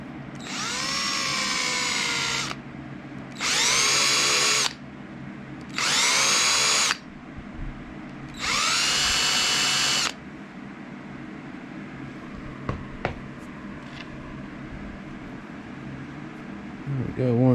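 A power drill with a countersink bit recesses a bolt hole in a boat transom mount, running in four close, loud, steady bursts of a couple of seconds each with short pauses between, then quieter shop noise.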